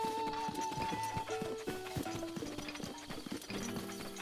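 Rhythmic clip-clop of a horse's hooves trotting in The Legend of Zelda: Breath of the Wild, steady hoof strikes over a layer of game music and clanking tones, with no talk.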